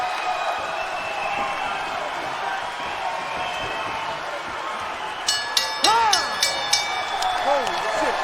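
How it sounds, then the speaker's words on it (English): A fight crowd roars steadily through the final seconds of a WSOF 31 heavyweight MMA bout, with louder voices shouting and whooping over the sustained noise near the end. "Look at the crowd come alive."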